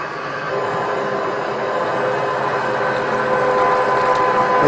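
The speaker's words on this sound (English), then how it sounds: "once you see that it's starting to thread onto the dies, you can go ahead and let the hand wheel go, and it will thread itself on there" A heavy-duty RG 1224 pipe threading machine runs as the dies cut threads onto a pipe, a steady loud mechanical whir and grinding that grows slightly louder over the stretch.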